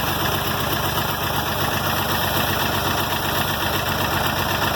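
An International 706 tractor with a D436 diesel engine idles steadily up close, a dense continuous rumble with no speech over it.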